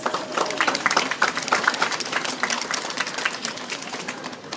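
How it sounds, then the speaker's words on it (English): Dense, steady audience applause at a beluga whale show at the Vancouver Aquarium, many hands clapping together in a continuous patter that holds for several seconds with no voices over it. "Let's give them a big round of applause"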